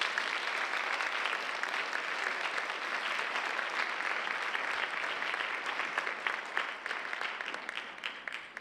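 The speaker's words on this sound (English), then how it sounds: "Could we please have another round of applause for our distinguished man?" An audience at a leadership lecture claps steadily, filling the whole stretch with dense, even applause that tapers slightly near the end.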